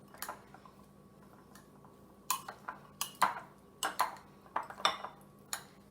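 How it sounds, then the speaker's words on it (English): A spoon clinks and scrapes against a bowl while chutney is mixed into chole, a series of sharp light taps spread irregularly over a quiet background. "So I'm going to add 2 spoons of chutney in this. Now I'm going to give it a good mix."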